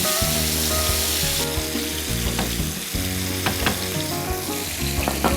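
Marinated chicken pieces with their gravy frying in hot oil, a loud, continuous close sizzle with crackling bursts and a few scraping stirs throughout.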